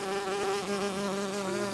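A close, steady insect buzz, like bees humming, continuous and fairly loud with no voices.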